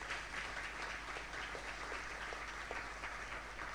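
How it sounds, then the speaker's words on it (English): A conference audience gives a speaker a round of applause, a dense, even wash of many hands clapping at moderate distance, sustained steadily without a break. "a round of applause for Joseph"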